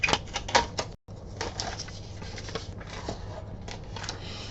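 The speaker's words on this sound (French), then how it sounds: "Donc je vais couper deux bandes de 5 cm." Scissors cutting two 5 cm strips of paper while making a planner from a binder, close crisp snipping and rustling in quick irregular bursts, with a brief silent gap near the start.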